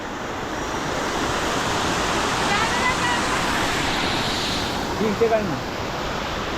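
Rushing water from a waterfall beside the trekking path to Marleshwar temple in Ratnagiri, a steady, dense roar filling the whole stretch with a brief faint voice-like trace near the end.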